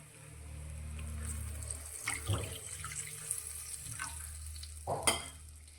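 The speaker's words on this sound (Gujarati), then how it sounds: "2 વાટકી પાણી લીધું છે, તે આપણે કઢાઈમાં લઈ લઈશું" Two bowls of water pour steadily into a kadai, a continuous splashing stream with a few clinks and a brief gush near the end.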